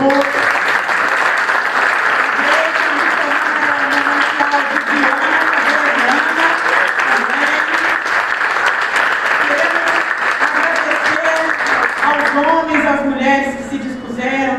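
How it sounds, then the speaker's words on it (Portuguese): A church congregation at an Easter supper service applauding, loud sustained clapping from a crowd with voices and music blending in, tapering near the end. "Um aplauso ao Senhor."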